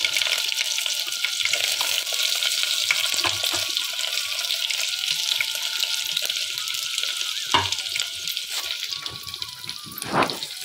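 Dried red chillies and spices sizzling in hot oil in a pan for rasam, a steady bright hiss with occasional pops and clinks of a utensil, close and continuous.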